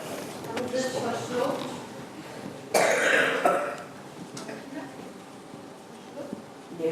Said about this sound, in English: just some coughing